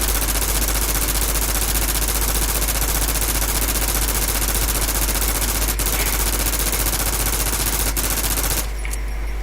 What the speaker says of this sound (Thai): นี่ครับผมจะยิงบอสให้ดูนะครับ